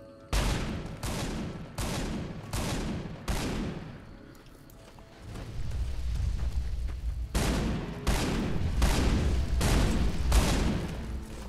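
A shotgun in Fallout New Vegas fires a series of loud, close blasts in two rapid clusters, separated by a brief lull of rumbling ambience.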